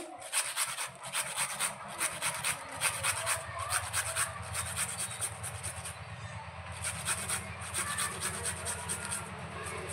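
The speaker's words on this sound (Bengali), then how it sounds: "সবগুলো দুধ কচুকে আমি এভাবে ঘষে নিয়েছি।" Milk taro (dudh kochu) stalks being grated on a machine grater in a kitchen, giving steady rhythmic rasping strokes in repeated bursts, close and moderately loud, with no talk.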